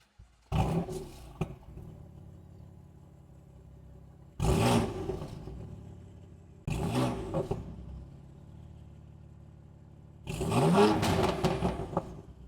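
A BMW M4 Cabriolet F83 with a stage 2 tune and its exhaust rumbles at a low idle, broken by four loud, roaring revs that rise sharply and fall back.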